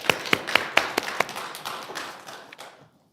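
A church congregation applauds at a Christmas service baptism, a short burst of claps that starts firm and thins out, fading to quiet after about two and a half seconds.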